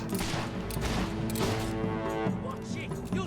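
Gunfire from a gun in the video game Fable 3 crackles in repeated sharp bursts, mixed with dense game music and voices talking over it throughout.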